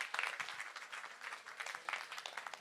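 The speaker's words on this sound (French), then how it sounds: "On peut eh bien, les applaudir bien fort." A crowd applauds at the opening ceremony of a charity relay event, with lively, uneven clapping that swells and dips in bursts across the whole stretch, heard from some distance.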